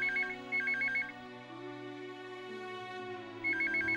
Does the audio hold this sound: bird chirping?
no